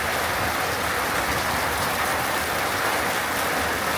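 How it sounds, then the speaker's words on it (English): Heavy rain bucketing down at night in Bangladesh, a steady, dense hiss of downpour lasting throughout without a break, loud and close, with no voices. "you can hopefully hear the rain as well."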